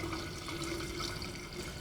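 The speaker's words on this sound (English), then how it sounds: "just pour your regular water over your mint." Plain water poured over mint leaves in a container outdoors, a short, soft, continuous splashing stream heard close and alone.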